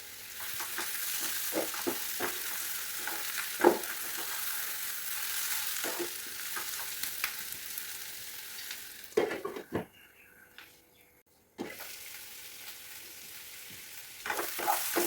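Onions sautéing in a pan for an egg roast, with a steady frying sizzle and occasional stirring scrapes and clinks; the sizzle briefly drops out near the end, as if under a lid, then resumes.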